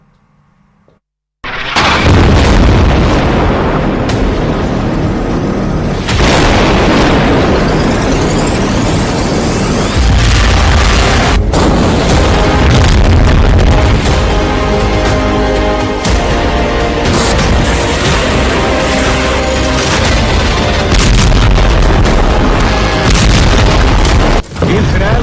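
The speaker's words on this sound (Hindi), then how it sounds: "इजरायल का बम गाजा में फटता है" Bomb explosions in Gaza erupt with a sudden loud boom after a short quiet moment. Sustained heavy rumbling and further blasts follow, and the roar stays loud and continuous to the end.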